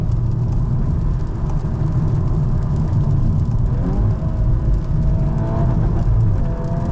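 A 2025 Volkswagen Golf R on a track, heard from inside as a loud, steady engine drone with road and wind roar, with subtle pitch shifts around downshifts.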